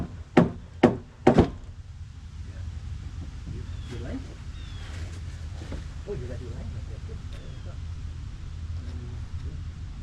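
Three loud, sharp hammer blows ring out in quick succession while deck frame joists are installed during a deck replacement, followed by quieter outdoor background with faint voices.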